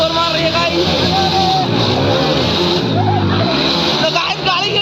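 A car engine strains and revs hard, a loud, continuous wavering roar that rises and dips in pitch while it labors under heavy load.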